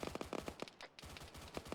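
Rapid automatic cannon fire from a BTR armored vehicle in a military shooter game, sounding as steady repeated bursts of shots that are distant and fairly faint, with a short pause in the middle.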